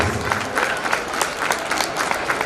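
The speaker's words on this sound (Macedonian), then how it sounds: "Иле и Весела, ве молам еден силен аплауз." Applause from an audience at a school teachers' project event in Macedonia, a loud continuous patter of many hands clapping throughout.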